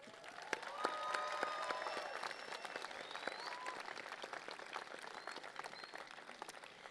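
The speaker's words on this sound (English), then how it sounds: "Please join me in applauding your faculty." Sustained applause from a commencement audience honoring college faculty, many hands clapping at once in a dense, even patter heard from a distance, fairly faint throughout.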